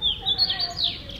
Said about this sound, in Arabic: شوفوا العصافير يا جماعة